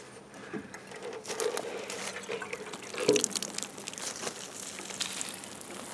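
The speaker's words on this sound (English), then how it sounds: "Let's water some radishes." Water patters and splashes unevenly onto soil and radish leaves, with a brief louder gush near the middle, heard up close with no talking.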